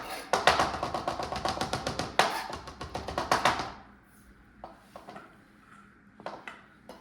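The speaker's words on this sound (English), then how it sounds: "We are going to go ahead and chop some cilantro. And just a rough chop." A kitchen knife rough-chops cilantro on a cutting board in quick, sharp, closely spaced taps, a dense burst then several slower scattered knocks.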